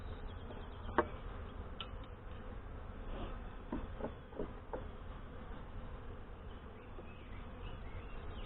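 Saskatraz honey bees working the frames of a brand new hive in northwest Wisconsin during an inspection make a steady, dense buzz that hums on throughout, with a few brief louder passes close by.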